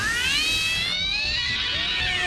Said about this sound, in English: in the movies he makes cat noises